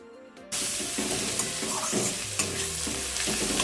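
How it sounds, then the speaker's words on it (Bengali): Sliced onions with cumin, coriander and a pinch of turmeric fry in a wok. After a brief quiet start, a steady sizzle sets in, broken by repeated scraping stirs. "কড়াইতে যে মশলাটা ব্যবহার করলাম সেটা হলো জিরে আর ধনে, আর একটুখানি হলুদ দিয়ে দিচ্ছি, দিয়ে ভালো করে একটুখানি পেঁয়াজগুলো ভেজে নেব।"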